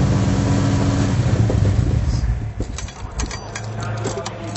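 A cold 1972 Chrysler Valiant VH Charger engine idles and revs close by, a low rumbling drone with a brief rev before settling back to a rough idle.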